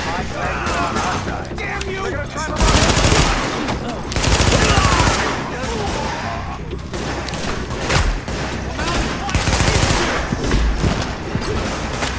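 Gunfire in the video game The Division, with repeated loud bursts of automatic shots and single cracks over a dense combat soundscape. The volume surges several times across the stretch.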